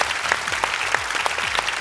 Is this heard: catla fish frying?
no